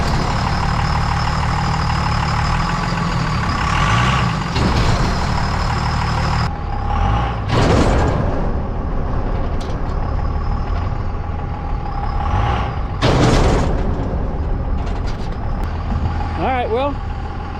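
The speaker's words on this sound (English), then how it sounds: "I'm just like giving it a yank and letting the momentum of the truck pull this thing." A truck engine labors and idles while pulling a 40-foot shipping container into place, with loud steady rumble, sharp hissing bursts like air brakes, and a metallic screech near the end; a voice talks intermittently.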